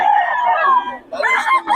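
A black rooster crows up close and loud in one long drawn-out call that breaks off, then ends in a shorter final rise.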